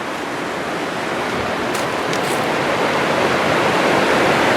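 A river rushes past a campsite in the San Gabriel Mountains, producing a loud, steady broadband roar of flowing water that continues without a break and with no voices.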